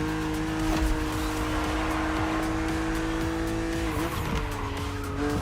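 A BMW Z roadster races in The Crew Motorfest, its engine droning steadily and loudly while tires squeal and skid throughout, the pitch dipping briefly near the end.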